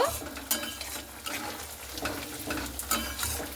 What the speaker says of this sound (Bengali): উপর থেকে অল্প পরিমাণে চিনিটা দিয়ে হালকা করে একটু এভাবে আরো নাড়াচাড়া করে নেব